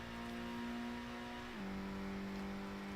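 Car engine in Gran Turismo drones steadily at constant revs, then the pitch drops in a single step partway through and holds at the lower tone; loud, continuous and close, with no talking.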